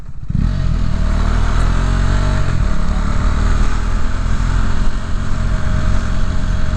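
A motorcycle rides along a pothole-filled Chicago road, its engine droning loud and steady throughout, with rattling clatter over the rough surface.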